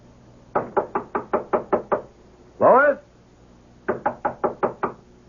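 Knuckles rap on an apartment door in two quick runs of about eight sharp knocks each, loud and close, with a voice calling out once between them, as in a radio mystery drama.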